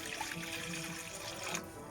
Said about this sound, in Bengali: কড়াইটাতে জল দিলাম